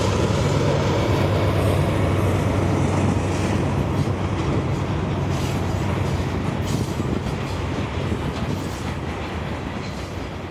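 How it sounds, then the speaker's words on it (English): A freight train on the other side of I-4 near Lakeland rumbles past loudly with a constant clattering of wheels on the rails, steady and close for the whole stretch. "Traffic noise below drowns out the train's approach until he's right at the overpass."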